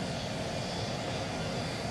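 A fighter jet coming in to land on a runway in Ace Combat: Assault Horizon, a steady, broadband aircraft engine roar that holds constant and fairly loud throughout, with no voices.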